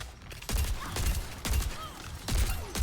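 Rapid gunfire bursts from a first-person shooter game sound in quick succession, several sharp cracks with short pauses between them, up close and fairly loud.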